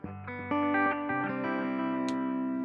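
Clean electric guitar chords through a Fractal FM3 MKII Turbo Deluxe Reverb amp model ring out with a warm amp tone and lush reverb, notes sustaining and blending as new strums are added.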